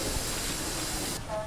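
A train at a station gives off a loud, steady, broad hiss like escaping steam. It cuts off abruptly near the end, leaving a faint tone behind.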